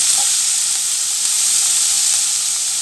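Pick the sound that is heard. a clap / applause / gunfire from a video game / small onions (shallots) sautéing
small onions (shallots) sautéing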